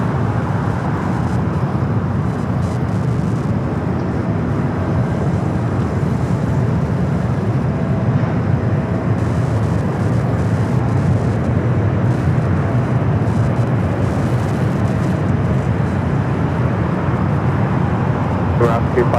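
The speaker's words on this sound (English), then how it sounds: "There she is, Royal Air Morocco, the Go Lions 2026 livery, flight 250, coming from Casablanca, 7-year-old 787-9 Dreamliner." A Royal Air Maroc Boeing 787-9 Dreamliner in special livery arriving from Casablanca onto runway 25L at LAX, heard as a steady, loud broadband jet roar that holds for the whole stretch with no voices over it.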